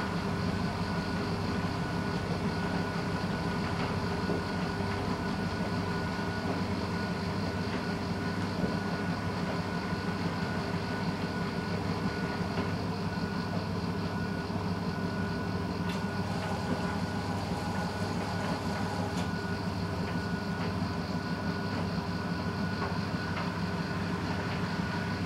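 A Blomberg washing machine spins at 600 RPM, giving a steady, loud, continuous rumble with a constant mechanical drone and no pauses throughout.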